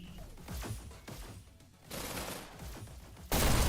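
Submachine gun fire in a VR e-sports shooter match: rapid, close bursts of automatic shots cracking in and out, with a loud burst at the end.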